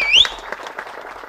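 Audience applause at the Ilam Jodi movie audio launch: a brief, close burst of hand clapping that opens with a sharp whistle-like rising tone.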